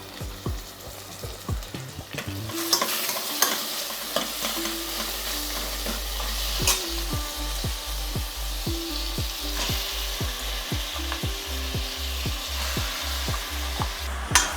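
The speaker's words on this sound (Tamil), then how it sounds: "மட்டனை நல்லா வந்து இந்த வெங்காயம் பச்சை மிளகாவோட நல்லா ஒரு 10 நிமிஷத்துக்கு ஃப்ரை பண்ணுங்கள்." Mutton frying and being stirred in a pan with onion and green chili, a steady close sizzle under repeated scraping and stirring strokes of a utensil, continuous throughout without talk.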